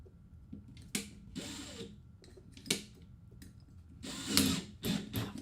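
A power drill starts and stops in several short bursts, whirring briefly each time with mechanical clicks in between.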